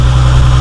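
A Nissan 350Z engine idles steadily just after a lightweight crank pulley install, a loud, close, even low rumble with a constant hum and no talking.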